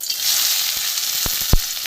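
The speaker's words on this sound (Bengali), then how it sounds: "বেশ কিছুটা পেঁয়াজ কুচি দিয়ে দিলাম এবার একটু ভালো করে ভাজবো" Chopped onions fry in a pan with a steady loud sizzle, broken by a few brief stirring scrapes and one sharp knock near the end, with no voices.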